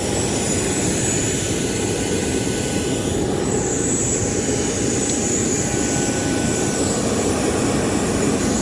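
A steady, loud airplane engine roar fills the scene with a constant broadband whoosh and a faint high whine, no voices present.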